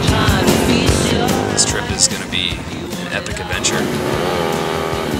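Motorcycles ride along on a trip from Las Vegas toward Rio de Janeiro via the Pan American Highway, a steady engine drone running continuously beneath a man's close speech.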